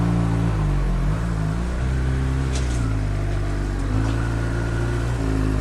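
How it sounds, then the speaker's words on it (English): A motorcycle engine runs steadily and shifts in pitch as revs rise and settle while the clutch is let out, a continuous close drone with no talk. "Now my bike increases revs by itself when you let the clutch out."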